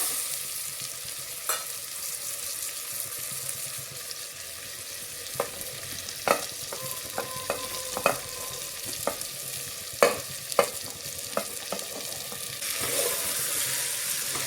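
Chopped vegetables stir-frying with onion and tomato in a pan for Maharashtrian masale bhat, a steady sizzle with scattered sharp clicks of a spoon scraping and stirring, no talk.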